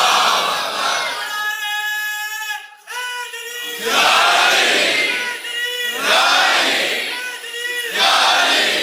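A large crowd of young men in a religious gathering's audience chants slogans in loud, rolling waves, each swell rising and falling in unison, with a brief lull before the chanting surges again.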